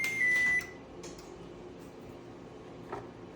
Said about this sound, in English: One thing I do not like about the oven is how many times it tells me it's preheated.